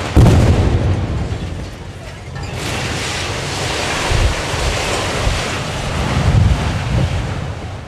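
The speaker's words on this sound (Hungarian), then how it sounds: "Vigyázz, robbantás!" A grain silo is brought down by a demolition blast outdoors, a deep, loud rumble at the start that rolls on as a broad, roaring noise mixed with heavy wind buffeting.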